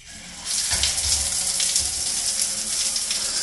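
Water from a cold shower in eastern Ecuador starts up and runs steadily, a bright hissing spray with some splashing thumps underneath, close and continuous.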